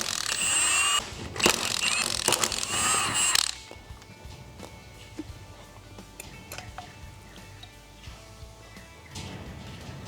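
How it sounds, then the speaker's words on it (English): A ratchet wrench clicks rapidly while bolts come out of a power steering pump being split apart, loud ratcheting bursts at first, then quieter scattered metallic clicks and handling noises. "the next step now is to pull these 3 bolts out to pull the pump in half"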